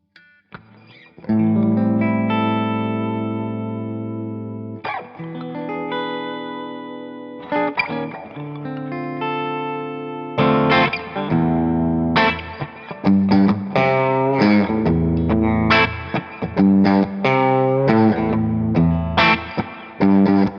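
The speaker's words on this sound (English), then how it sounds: "It's a lot of reverb. It has that angry SG growl." Maybach Albatroz 65.2 SG-style electric guitar played with heavy distortion and lots of reverb, sustained chords ringing out, then choppier riffing with sharp attacks and long decaying tails.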